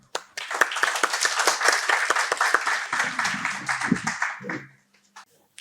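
Audience applause welcoming a speaker at a seminar on alternative dispute resolution: dense hand clapping from a room of people, steady for about four seconds, then thinning out into a few scattered claps.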